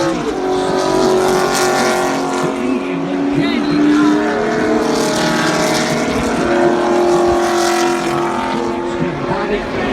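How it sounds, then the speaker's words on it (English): Race cars at the Daytona 500, a loud continuous roar of engines with rising and falling whine as the field passes, commentary talk running over it. "At least 10 cars involved in a crash going into turn number 3"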